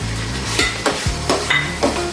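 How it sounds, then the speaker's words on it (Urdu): Ginger and garlic fry in a pan for an okra dish, with a close, steady sizzle broken by several quick scraping stirs against the pan. "ہمارا ادرک لہسن بھی تھوڑا سا ہو گیا ہے، ہلکا سا ہم نے اس کو 1 منٹ بھونا ہے"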